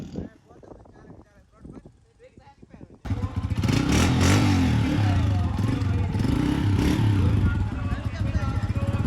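After a few seconds of talking, a loud motorcycle engine roars in at a motorcycle contest and keeps revving with rattling clatter, drowning out surrounding crowd noise.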